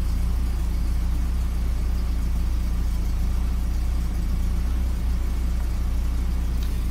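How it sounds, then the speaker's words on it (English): A Porsche 944 fitted with MicroSquirt engine management idles steadily after a cold start, a constant low rumbling drone with an even throb, close and unbroken, with no one talking. "so it's a cold start, and the car idles solid"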